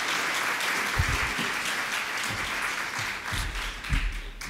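Audience applause at a French parenting conference opening, steady dense clapping from a crowd that sustains across the whole stretch with a few louder swells, moderately distant in a hall.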